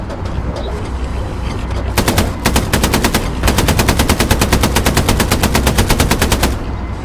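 Sustained machine gun fire in the World War II shooter Hell Let Loose, night battle on the Foy map, loud rapid bursts starting after two seconds and running almost continuously with brief gaps, over a steady low engine rumble.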